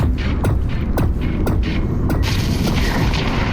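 A power cell detonating in Lone Echo 2 in zero-gravity space: a string of sharp mechanical thumps about every half second, then a loud crackling energy release that fills the close, dense mix.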